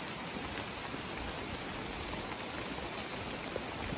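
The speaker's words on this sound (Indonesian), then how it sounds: "Cuaca hujan." Steady rain falls and patters on surfaces in a dense, even hiss, close and unbroken for the whole stretch, with no voices.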